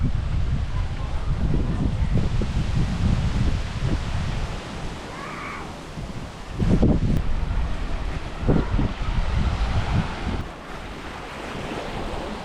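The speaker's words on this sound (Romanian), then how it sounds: "Bate vântul rău." Strong wind roars steadily into the microphone with buffeting gusts, mixed with the wash of waves on Caribbean water; no talking.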